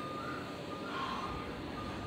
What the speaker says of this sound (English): Then I heard the beeping. I was like, oh yeah, trash. Because of all the beeping.